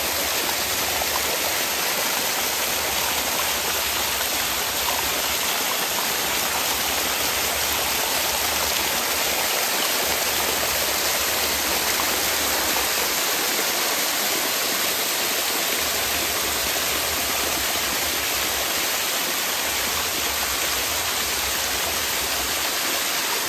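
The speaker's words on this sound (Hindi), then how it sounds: "एकदम कानों को सुकून देने वाली ये आवाज़ जो है झरना से ही मिल सकती" Steady, dense rush of falling water, loud and continuous with no pauses or voices, like standing close to a cascading waterfall near Jamshedpur.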